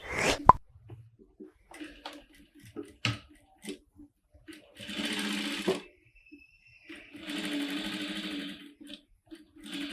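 A sewing machine stitches a strap onto the side of a blouse in two steady whirring runs of a few seconds each, close and clear, separated by fabric handling, taps and short pauses.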